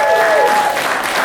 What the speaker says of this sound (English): thank you so much for that smattering round of applause you guys gave me there